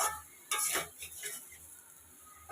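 Soybean chunks and potatoes cooking with egg curry in a pan, giving a brief burst of stirring and scraping with a low sizzle, then quieter clinks of utensil against the pan.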